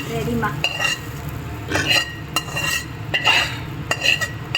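Spices for horse gram (kollu) kuzhambu crackle and sizzle in hot oil, with short bursts of clinking and stirring against a metal pan, close by and lively.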